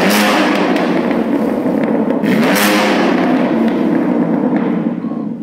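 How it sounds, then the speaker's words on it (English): A BMW's exhaust roars as the car is revved hard, a loud, dense, rumbling burble with sharp pops and surges, heard up close and continuous before easing slightly at the end. "Now just listen this exhaust sound"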